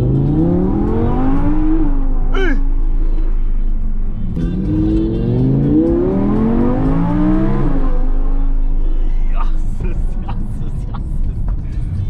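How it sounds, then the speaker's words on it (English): A V10 car accelerates hard through the gears on a street, its engine note rising in loud sweeping climbs with brief drops at each shift, close and dominant throughout. "The brakes in this car is proper awesome, but the acceleration is demonic."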